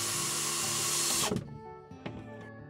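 A power drill drives screws into place for mounting a Joyfox 60A MPPT solar charge controller, with a loud, steady whirring that stops abruptly, followed by a couple of light knocks.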